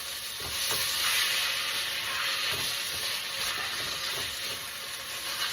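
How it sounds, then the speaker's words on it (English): Tomatoes go into a hot pan with garlic and sizzle loudly, a dense continuous frying hiss with a few soft stirring bumps, close and steady throughout without any voices. "Now I'm going to go in immediately with some tomatoes."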